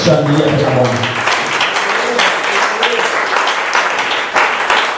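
A church congregation breaks into loud, sustained applause and clapping after a short spoken line from a voice.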